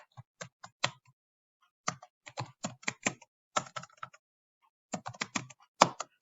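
Fingers type a date on a computer keyboard, close, brisk clusters of crisp key clicks broken by short pauses, with no talk.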